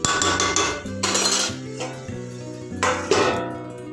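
Metal lid settling onto a cooking pot of curry, a few sharp clanks and rattling clinks in quick succession, close and fairly loud, with no talk.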